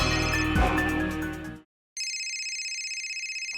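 An electronic phone ringtone plays a busy melody, pauses briefly, then resumes as a repeating pulsing ring.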